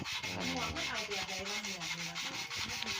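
Wood being sanded with quick, rhythmic rasping strokes, a steady scratchy hiss repeating several times a second, close up.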